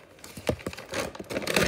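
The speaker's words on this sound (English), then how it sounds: "As you can see, this is the DVD. I'll take out the plastic." Plastic wrapping crinkles and tears off a DVD case in a quick burst of close, crackly rustling.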